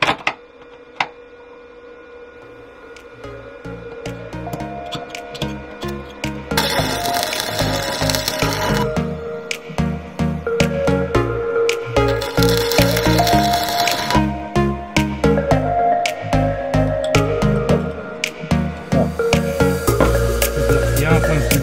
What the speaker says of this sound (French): On va essayer de faire au moins un point de soudure pour que ça prenne.